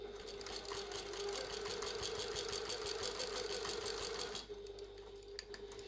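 A sewing machine stitches steadily across the end of a tote bag seam, a close, continuous whirring hum with fast needle rhythm that eases slightly near the end.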